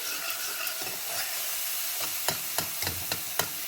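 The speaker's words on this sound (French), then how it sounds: "la semoule, elle cuit, elle gonfle de suite dans cette eau très chaude. Et je mélange" Semolina is stirred through very hot water in a pot, giving a constant hissing bubble with a run of sharp spoon scrapes and knocks toward the end.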